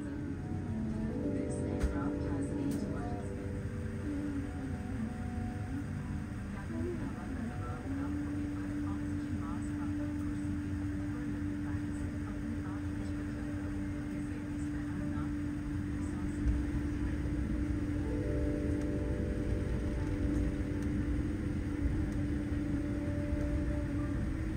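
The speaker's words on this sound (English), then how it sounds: "We pushed back and began a lengthy taxi to the takeoff runway." Vistara Boeing 787-9 taxiing toward the takeoff runway, heard from inside the cabin as a steady low engine drone with a rising whine, continuous and moderately loud, with faint talk underneath.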